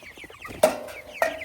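Meat chickens cluck nearby, with two sharp, loud squawks standing out over softer background clucking.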